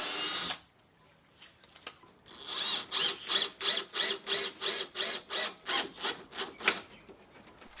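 A power drill whirs in a steady series of about a dozen short, evenly spaced bursts, driving screws into wood up close.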